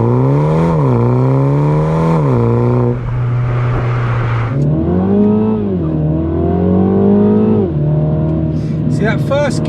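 A 2021 MINI JCW launching in first gear on a French mountain pass, the engine note climbing loudly through repeated revs and gear changes, with a voice talking over it.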